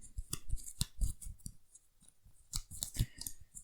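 Game cards are reshuffled during a solo board game session, giving bursts of crisp riffling and flicking at close range, in short uneven runs separated by brief pauses.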